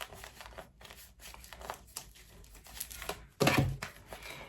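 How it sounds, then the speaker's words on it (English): A deck of tarot cards being shuffled, giving a steady papery crinkle and riffle that runs throughout, with a louder, denser burst of card noise near the end. "We're gonna go ahead and shuffle this deck"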